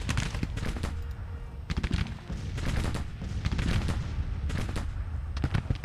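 Musket volleys crackle from massed infantry in Grand Tactician: The Civil War during an 1862 battle, a ragged run of overlapping shots rolling on for about six seconds, loud and close, with no voices.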